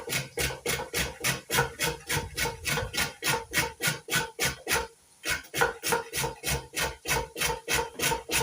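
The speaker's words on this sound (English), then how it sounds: "when we start grating my carrots" Carrots rubbed steadily against a metal grater up close, a fast regular rasping of strokes about three per second, pausing briefly near the middle before resuming at the same pace.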